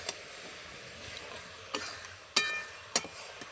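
Jujube pickle being stirred in a pan with a roasted spice mix: a faint, low sizzle under soft scraping, with a few sharp clicks of the spoon against the pan.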